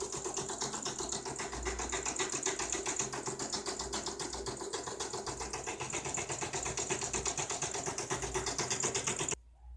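A Brother PE810L embroidery machine runs a satin stitch on an appliqué, giving a steady, fast mechanical whir with a dense needle rhythm. It stays close and continuous for nearly ten seconds before stopping abruptly near the end.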